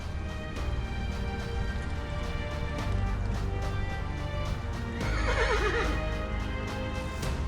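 Wild horses neigh and whinny beside a road at the foot of towering cliffs near Panther River, one loud whinny standing out late among steady hoof clops and low background rumble.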